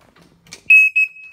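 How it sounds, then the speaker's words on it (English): A loud, piercing electronic smoke alarm chirps twice in quick succession after a brief soft shuffle, close by. "Fire alarm's working fine."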